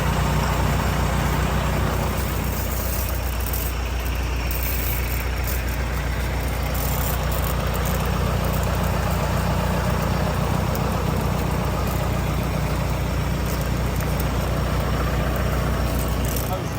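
A John Deere 5130M tractor engine idles steadily with a low, constant rumble and hum that stays unchanged throughout, close by, with no voices.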